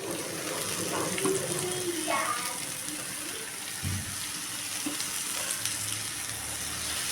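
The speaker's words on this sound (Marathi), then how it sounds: "आता यामध्ये आपण टोमॅटो टाकणार आहोत" Browned onions frying in a pan for a quick onion-tomato chutney as tomatoes go in, a steady broadband sizzle with a few faint clinks and stirring scrapes, close and moderately loud, with no talking.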